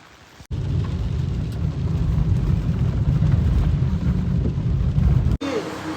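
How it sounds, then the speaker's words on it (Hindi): Heavy evening rain in Rishikesh pours down in a dense, steady roar with a deep rumbling low end, starting and stopping abruptly. "आज तो खतरनाक वाली बारिश हो ही रही है"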